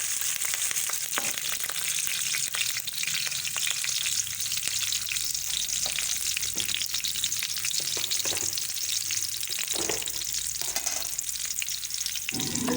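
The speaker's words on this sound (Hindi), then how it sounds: "हरी मिर्च डालने के बाद फ्राई करें, इसको भूनें ज़रा अच्छी तरीके से।" Onions and green chillies frying in oil for turnip curry, a steady loud sizzle with occasional stirring scrapes, close up and without talk.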